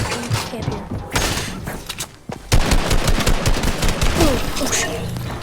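DUB shotgun firing in a video game: a burst of sharp blasts at the start, then a quieter stretch, then loud repeated shots with thuds and mechanical clatter in the second half.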